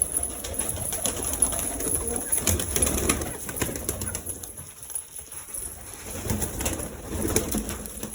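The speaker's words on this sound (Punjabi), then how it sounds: "ਲਓ ਜੀ ਕਬੂਤਰਾਂ ਨੂੰ ਪੈ ਗਿਆ ਦਾਣੇ" Pigeons coo softly and repeatedly while being fed grain alongside chickens, over a rustling, busy background, with a few faint bird chirps and flutters mixed in.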